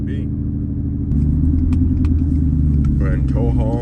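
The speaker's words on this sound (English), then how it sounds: "then the truck starts downshift for us automatically" A Ford F-150 in tow haul mode downshifts automatically, its engine note stepping up into a louder, steady rumble midway under a closed cab, with brief clicks and a voice in the background.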